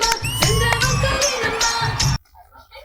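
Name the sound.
audience clapping at a college talent show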